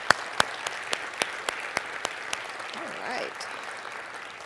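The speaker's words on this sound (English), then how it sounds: "If we could give every one of those sponsors a round of applause" Chamber of commerce event audience gives a sponsor round of applause, heard as a handful of sharp, evenly spaced claps fairly close by, fading out after a couple of seconds with faint voices beneath.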